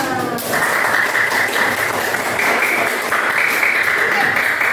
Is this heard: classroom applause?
yes